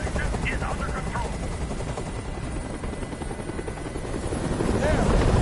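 A video game helicopter's rotor in Detroit: Become Human thumps steadily and loudly nearby, hovering with a continuous chopping roar that swells toward the end.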